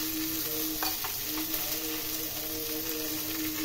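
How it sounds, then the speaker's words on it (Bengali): Potato, eggplant and onion frying in a pan over low heat, a steady close sizzle with a few soft stirring scrapes, no talking. "আলু, বেগুন এবং পেঁয়াজ আমি হালকা আঁচে নেড়ে নেব।"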